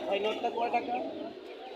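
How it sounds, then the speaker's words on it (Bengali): Pigeons coo at a busy Bangladeshi pigeon market, soft throaty warbling calls close by, mixed with crowd murmur and people talking. "এই একটা বাচ্চা কবুতর আছে"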